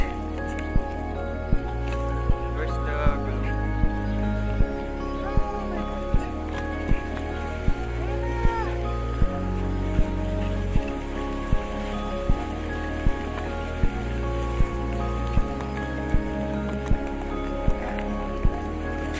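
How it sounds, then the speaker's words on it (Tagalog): Steady rain pours down with a dense, constant hiss, while a person speaks briefly over it and rhythmic background music plays throughout. "Medyo malakas ang ulan dito guys."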